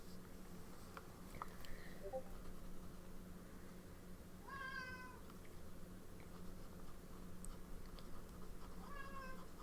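A pet cat named Purple meows two or three times, short rising chirpy calls close by over a quiet room hum, with a gap between them.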